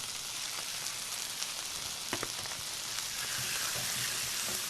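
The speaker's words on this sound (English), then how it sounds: "After that starts to sizzle, we add some strips of beef" Steady, even sizzling of beef strips frying in hot oil in a wok with garlic and ginger, a dense crackle with a few sharper pops and no talking.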